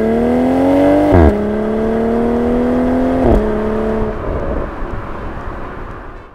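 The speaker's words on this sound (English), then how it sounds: "That exhaust noise is right in the back of your head, and it just sounds great." A BMW Z4 M40i engine and exhaust revs loudly and nearly at once in a rising drone, breaks sharply twice at gear changes, then settles to a quieter whir as the car eases off.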